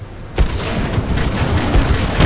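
Gunfire in Titanfall 2: a sharp close boom followed by a dense fusillade of shots and impacts, loud and continuous across the stretch without any voice.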